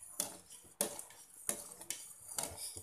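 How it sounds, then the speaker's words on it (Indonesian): A spoon scrapes and clinks against a metal pot as fig pudding is stirred toward the boil, producing repeated close, bright strokes about every half second with no voices. "Kita aduk-aduk sampai mendidih."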